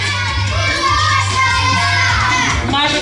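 An audience at a camp contest applauds and shouts for a contestant, a loud, continuous wash of clapping, cheers and children's voices throughout.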